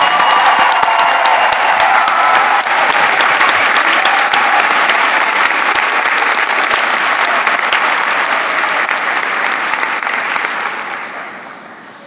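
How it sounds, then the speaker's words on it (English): Sustained applause from a large crowd at a nursing white coat ceremony, steady and loud for about ten seconds before tapering off at the end. "Let's give these nursing students a round of applause."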